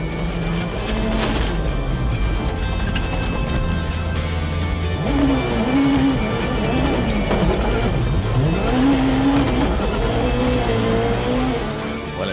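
Rally car in WRC Rally New Zealand 2012 on a muddy gravel stage, engine revs rising and falling with tyre scrabble and squeal as it spins, loud and continuous for about twelve seconds.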